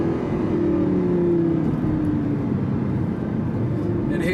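A Lamborghini Gallardo LP560-4 engine drones steadily while driving, its pitch rising and falling with throttle across the stretch, heard from inside the car under a loud, continuous road roar.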